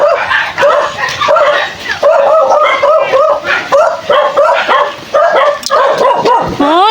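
Several dogs barking and yipping in quick repeated bursts, loud and close, mixed with whimpers and people talking nearby.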